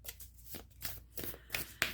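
Gateway of Light activation cards being shuffled by hand, a series of soft riffling bursts ending in a couple of sharper snaps, close and alone.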